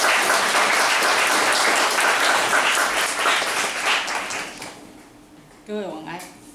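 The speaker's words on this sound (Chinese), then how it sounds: "好，那我们现在就热烈掌声" An audience breaks into loud, dense applause to welcome a speaker at a lecture event. The clapping fades after about five seconds, and a voice then starts speaking.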